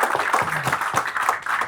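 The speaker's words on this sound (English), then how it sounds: "So one big round of applause again for all our panels." Audience applause at a panel session on cross-border M&A, a dense, steady round of clapping from a crowd filling the whole moment at close range.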